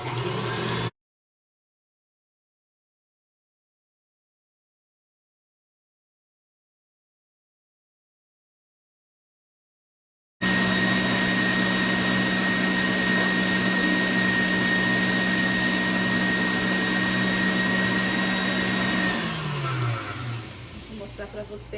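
Electric mixer whipping egg whites to stiff peaks for a sponge cake batter, a steady loud whirring drone that starts abruptly after a stretch of silence and holds for about ten seconds before slowing down near the end.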